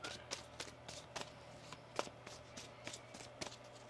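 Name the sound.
shuffling a deck of tarot cards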